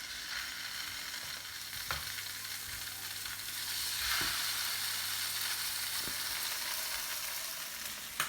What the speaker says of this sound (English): We put in our salmon fillets into our high heat pan